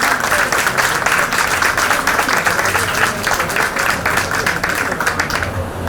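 An audience at a book presentation applauds with dense, continuous clapping that is loud and close throughout, with no voice on top.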